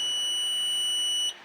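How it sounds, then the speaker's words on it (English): A stud finder held against a wall gives one continuous high-pitched electronic beep, loud and close, then stops abruptly. "move it over slowly until you hear a beep"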